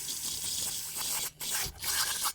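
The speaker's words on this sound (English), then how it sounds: "I'm going to use some carb cleaner here and clean this out." Carb cleaner sprayed into the idle air control valve of a Ford Mustang, heard as close, loud aerosol hissing in two brief interruptions between sustained bursts.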